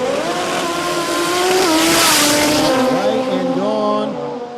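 Cars launch down a sports compact drag strip at a Brisbane event, with engines screaming and rising in pitch as they accelerate away, loud and roaring, with voices heard faintly beneath.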